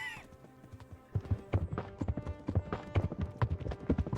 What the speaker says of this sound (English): I got the fastest horse in the game